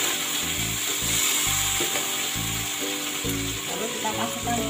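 Noodles with chili sauce being stirred in a frying pan for Surabaya-style fried noodles: a steady sizzle with repeated rhythmic scraping and clattering strokes of the utensil, close and continuous.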